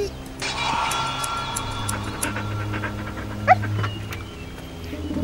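A dog whimpering and yipping in the video game Nightmares from the Deep 3, short whiny cries set among game music and ambient effects, moderately loud with no talk.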